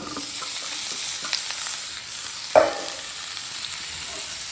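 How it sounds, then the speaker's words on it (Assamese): Pumpkin fry sizzling steadily in a pan with occasional stirring scrapes and one sharper clink of the utensil, close and continuous with no talk. "ৰঙালাও ভাজিটো বনাই লওঁ, পিছত দেখাই আছোঁ আপোনালোকক।"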